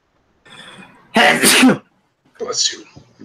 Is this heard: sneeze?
yes